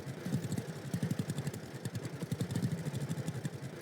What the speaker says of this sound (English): Hope the tractor is not too loud.